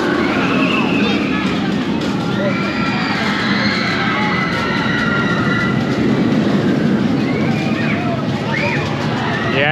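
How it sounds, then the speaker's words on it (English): Manta roller coaster at SeaWorld Orlando roaring past in a loud, sustained rumble with wheel clatter and rail noise, over a steady crowd din and voices in the theme park. "Manta is always a good coaster to go on. And here it goes right over here as we speak."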